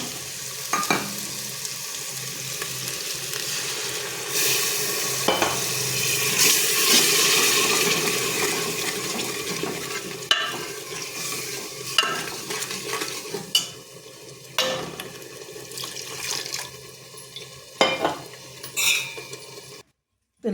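Potatoes fry and get stirred in a pan with roasted masala, salt and chili, giving a steady close sizzle with scraping spoon strokes and a few sharp utensil knocks on the pan.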